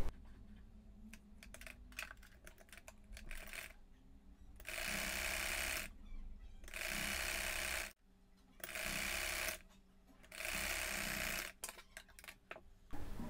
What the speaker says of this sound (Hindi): अब ऊपर की तरफ सीधी सिलाई लगाएं।